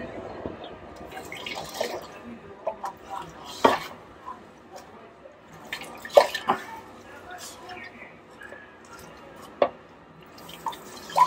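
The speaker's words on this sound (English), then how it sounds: "let me put the water in" Water poured into a Primo water dispenser bottle, splashing and trickling in uneven bursts, with occasional clinks and bumps, fairly close and quiet.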